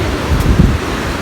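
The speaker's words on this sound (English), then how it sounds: "Getting extremely windy up here, as you could tell" Strong wind roars steadily across the microphone high on a mountain at Breaks Interstate Park near Pikeville, Kentucky, with a dense, buffeting hiss and no voices.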